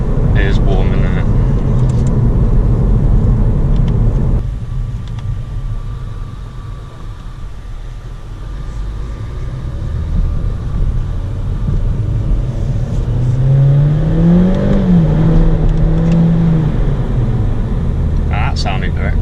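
A 2022 Audi A3 S line drives at night, and its engine rumbles as it pulls through first and second gear. Occupants talk over the steady engine note, with a brief rising tone near the end.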